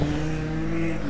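A Piaggio Zip scooter engine, just repaired after being in pieces, runs with a steady, buzzing drone throughout, loud and close with no break.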